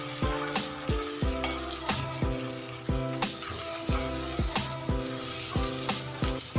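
Onion stalks sauté in a hot pan with green chillies and salt for an egg and onion-stalk curry, a steady sizzle broken by regular, ringing spatula clanks against the pan.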